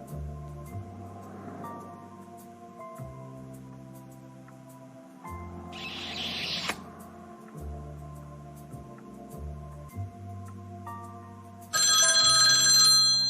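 A telephone rings in a French animated film, electronic ringing tones repeating over a steady background music bed, with a brighter burst of ringing near the end and no talk.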